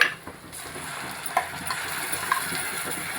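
Ground curry leaf paste goes into softened onion and garlic frying in a pan for Chettinad curry leaf kuzhambu, bringing a steady moderate sizzle with a few soft stirring clinks and scrapes, no voices.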